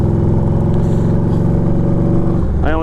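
A motorcycle engine hums steadily while riding along at cruising pace, a loud, close, even drone with a brief shift in pitch near the end.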